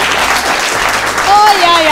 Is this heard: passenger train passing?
no